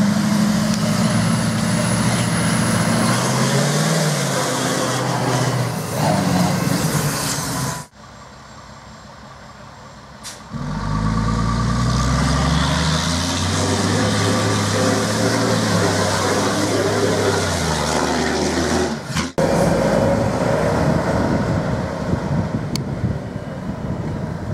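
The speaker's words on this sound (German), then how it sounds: "Der Besenwagen, der ist als letztes gefahren." The Africa Eco Race sweep vehicle drives past on a Moroccan rally stage, a loud rumbling engine with wind buffeting, rising and shifting in pitch as it passes, then a brief lull before more roaring engine noise.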